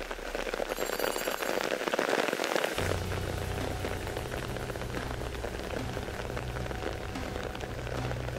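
Spring rain falls on a lake in cool, windy weather, a steady dense patter of drops on the water, loud and close, with a low drumming hiss joining partway through.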